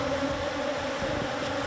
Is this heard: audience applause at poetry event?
no